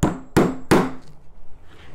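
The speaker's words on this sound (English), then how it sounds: "try to drive it in two nails anyway" A Dewalt 12 oz smooth face hammer drives nails with three sharp, evenly spaced strikes about a third of a second apart, close and loud, followed by quieter handling noise.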